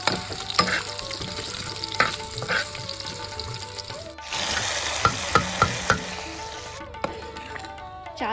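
Cumin, chilli, bay leaf, coconut and peanuts fry in a pan in a village kitchen, with a steady sizzle and sharp utensil scrapes and taps, louder in the second half, no talk.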